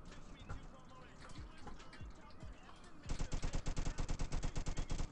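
Roblox Jailbreak gunfire, scattered shots at first, then a rapid, evenly spaced automatic burst of loud bangs, with voices talking over it.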